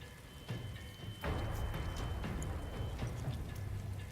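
Steady rain in the role-playing video game Divinity: Original Sin 2, a continuous hiss of falling water that swells louder after the first second and holds evenly to the end, with no talk over it.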